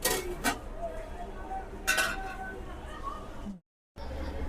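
Prawn biryani stirred in a pot, with two sharp scraping clinks of a metal utensil against the pot amid soft kitchen clatter and a voice speaking, then a brief silent gap.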